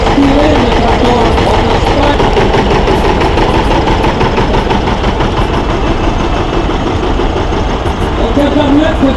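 A John Deere R diesel tractor engine running at a vintage tractor meeting in Lochristi, Belgium, a loud, steady, throbbing low rumble with continuous mechanical clatter close by, unbroken throughout.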